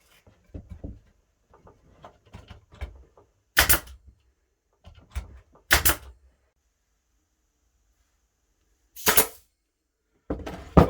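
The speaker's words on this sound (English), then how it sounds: "Nail gun's ready to go." A nail gun fires nails into a wooden wine and cheese serving tray, giving four sharp, loud cracks spaced a few seconds apart, with soft handling knocks and taps between them.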